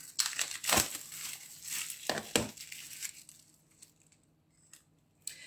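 Scissors cut open the packaging of a brand new paper pad, making close, crisp crinkling and crunching bursts that fade to quieter rustles, with no talking.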